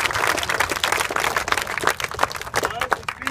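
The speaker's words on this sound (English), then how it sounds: "I will clap for you guys for that." People clap at a 12U youth baseball national tournament, a scattered burst of hand claps mixed with crowd noise and overlapping voices. The clapping is fairly close and irregular.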